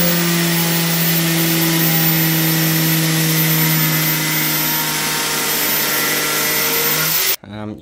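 Power saw cutting through an original plastic car bumper during custom bodywork on a 2000 Max Power project car, a steady loud whine with droning tones running continuously, then cutting out abruptly near the end.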